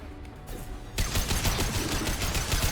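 Enemy gunfire in the Mass Effect 2 video game erupts after a quieter moment, a dense run of rapid shots and impacts continuing loudly to the end.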